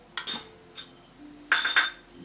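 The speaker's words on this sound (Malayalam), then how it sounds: "കടുക് പൊട്ടി" Crushed mustard seeds pop and splutter in hot oil in a pan while mango pickle is made, giving a few sharp crackling bursts, the loudest cluster near the end.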